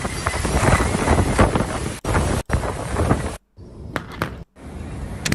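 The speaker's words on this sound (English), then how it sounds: "That was probably about a 65-mile-an-hour wind gust right there." A strong wind gust, around 65 mph during a severe weather event, roars loudly into the microphone in heavy buffeting rushes that cut out abruptly several times.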